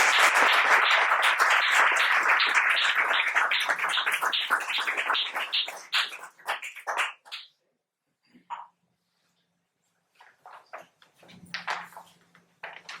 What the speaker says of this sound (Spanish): les voy a pedir, por favor, un fuerte aplauso.